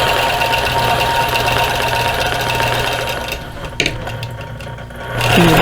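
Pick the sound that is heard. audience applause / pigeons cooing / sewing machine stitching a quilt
sewing machine stitching a quilt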